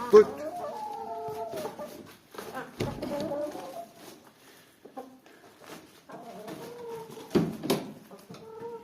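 Chickens cluck and squawk close by in a barn converted into a coop, with repeated bursts of cackling and scattered calls while a person talks quietly at times.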